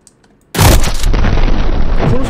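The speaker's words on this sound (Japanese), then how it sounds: "このショットガン爆発するのすごい。" After a half-second of near silence, a shotgun in the Backrooms Break video game explodes in a sudden loud boom that rolls into a sustained, dense roar of debris and rumble filling the rest of the clip.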